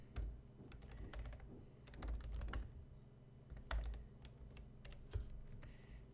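Quiet computer keyboard typing in scattered bursts of close key clicks and taps while code is erased, with short pauses between bursts and no speech.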